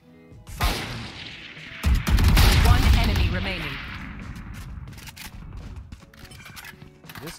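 A gun fires in a tactical shooter video game: one sharp shot early, then a heavy burst of booming gunfire that rings out and slowly fades, with a few faint clicks afterward.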